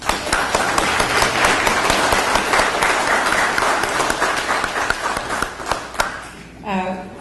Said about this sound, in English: we need another rousing round of applause for Charles and Anita Price